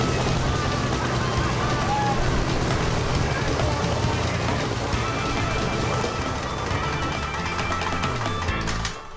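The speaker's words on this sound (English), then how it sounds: "they've got a working engine and a lethally spinning propeller" A salvaged engine running with its propeller spinning, a loud continuous droning roar that holds steady, then drops off abruptly right at the end.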